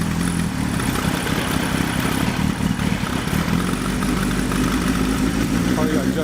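A Suzuki GS1100E motorcycle engine fitted with Mikuni RS34 carburetors idles close by, a loud, steady rumbling chug that holds at a constant level with no revving.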